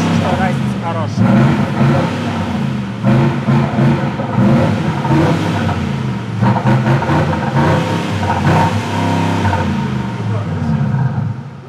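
A deep, rumbling simulated diesel exhaust note for a Mercedes G350d throbs and surges from the car's speakers, with voices talking over it throughout.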